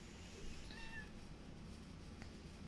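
Pet cat meowing indoors, a faint short meow early on with a fainter chirp later, over a steady background hiss.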